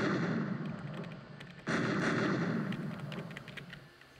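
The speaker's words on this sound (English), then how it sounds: "How do I cause more explosions?" A loud, rumbling Roblox explosion, a car disintegrating under rockets, with a sharp new blast partway through, then the roar slowly fades.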